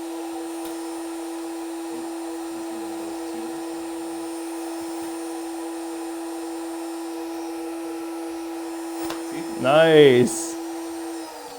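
A CNC spindle on a SuperLongBoard machine runs as a steady, loud tonal hum, then is adjusted down by a single RPM; a short rising whine near the end, and one brief word is spoken.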